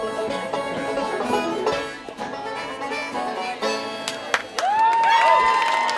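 Crowd at a campaign rally cheering and clapping, a dense, loud swell of voices and applause that dips briefly midway and then rises again with whoops.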